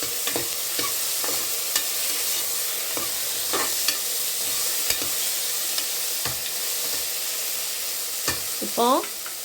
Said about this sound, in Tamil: இப்போ நல்லா இஞ்சி பூண்டு பச்சை வாசனை போக தாண்டி நல்லா வதக்கிக்கலாம்.